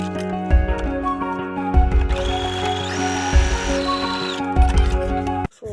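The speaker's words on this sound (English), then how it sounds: "so back to the sewing machine" A sewing machine stitches satin lining into a toque in several whirring motorized runs, each with a rapid mechanical rattle and short pauses between.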